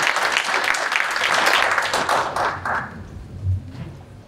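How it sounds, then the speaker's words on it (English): Audience applause at a county sheriff's office annual awards ceremony, a dense burst of clapping that swells for about three seconds, then thins out to a few scattered claps and thuds. "can everybody just give him a round of applause"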